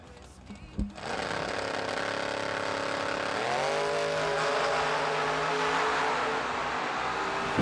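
Drag racing cars, including a Camaro, launch together with a sudden roar that settles into a loud, sustained high-revving engine drone as they run down the track.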